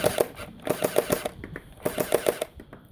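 A Kriss Vector V2 X-Force gel blaster toy gun on a 6-volt battery firing rapidly in two short bursts, sharp close mechanical clacks in quick rhythm separated by a brief pause.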